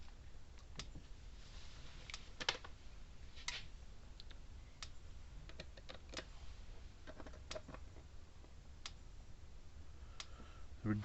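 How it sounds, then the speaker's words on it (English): A Visions Mustang electric fence energizer ticking with regular, sharp, faint clicks roughly once a second over a steady low hiss, heard alone with no talking. "So see it clicking along there, lights flashing and stuff like that."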